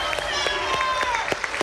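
A spectator in the audience at a cosplay contest shouts out over a noisy crowd, with clapping and general chatter filling the background throughout.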